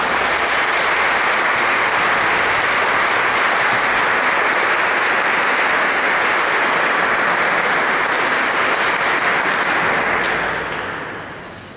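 A concert audience applauds loudly as choir musicians, an organist among them, walk in for an autumn concert, a thick sustained roar of clapping lasting over ten seconds before fading at the end.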